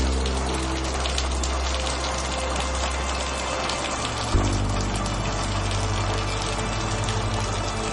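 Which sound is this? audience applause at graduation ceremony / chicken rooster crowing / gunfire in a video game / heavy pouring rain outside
heavy pouring rain outside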